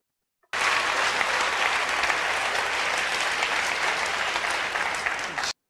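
A large audience at a Nelson Mandela event applauds in a steady, dense wash of clapping that starts abruptly, holds evenly for about five seconds and cuts off, heard as a played recording without talk.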